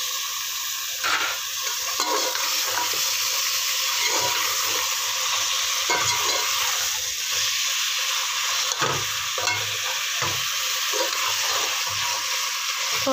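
Beef sizzles and fries in a pot, a steady broad hiss that runs throughout, broken by scraping stirs and occasional clinks of a spoon against the metal, close and alone with no voices.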